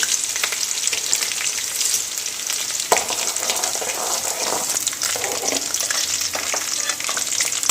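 Dried red chillies frying in hot oil for a date pickle, giving a continuous bright sizzle with occasional clacks and stirring sounds, close and fairly loud.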